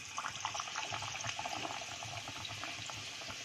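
Stuffed tomato vadas coated in batter fry in hot oil, giving a steady, dense bubbling sizzle that runs without a break. It is close and moderately loud, and no one speaks.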